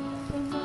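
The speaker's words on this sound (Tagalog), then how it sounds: "Grabe ulan." Heavy rain falls on a farm, a steady dense hiss of drops with a brief low thump partway through, no voices.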